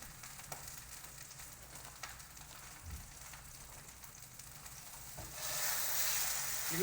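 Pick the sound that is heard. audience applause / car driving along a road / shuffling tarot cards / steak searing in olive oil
steak searing in olive oil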